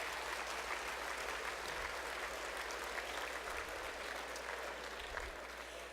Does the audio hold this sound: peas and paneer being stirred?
no